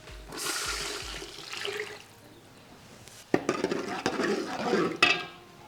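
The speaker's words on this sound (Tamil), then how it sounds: "பழைய புளியை கரைச்சி வச்சுருக்கான் ஒரு இரநூறுவா புளி ஊற்றுறோம்" Tamarind water pours and splashes into a pot for a village-style onion pickle, a rushing watery sound that pauses, then returns louder with clinks of metal.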